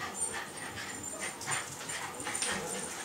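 Dogs whimpering and whining in short, irregular high-pitched bursts at moderate distance, over a steady background hum, while a Wii Sports Golf game is being played indoors.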